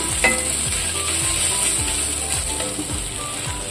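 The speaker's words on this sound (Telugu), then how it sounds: "ఫాస్ట్గానే వేగిపోతుంది ఉల్లిపాయలు చూడండి కలర్ మారిపోతుంది" Onions fry in a pan for a taro root fry, a constant close sizzle layered with repeated rhythmic clicking and scraping, with no voices.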